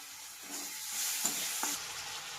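Tomatoes fry in a pan with salt and ginger-garlic paste for a chicken masala, giving a faint, steady hiss with a few soft stirring taps, quiet and close, with no talking.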